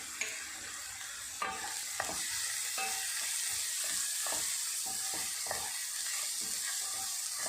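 Vegetables with salt and black pepper fry in a pan, a continuous close sizzle broken by repeated scraping knocks from stirring.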